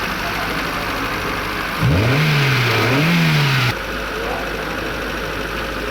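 A cold Hyundai Santro engine with an automatic choke runs at high RPM, a close, steady idle hum whose pitch swells and dips in a revving pattern for a couple of seconds before settling back.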